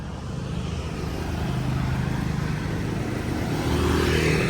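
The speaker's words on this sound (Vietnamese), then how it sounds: "Quốc lộ 37 này thì có cái lưu lượng xe cộ qua lại rất là đông." Midday traffic rolls along Vietnam's National Highway 37, motorbikes and cars passing at a moderate distance in a continuous hum that swells gradually louder toward the end, with no speech.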